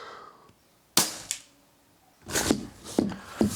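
An HW77 air rifle firing, a sharp close crack followed by a smaller click, then several more quick snappy sounds after a brief pause.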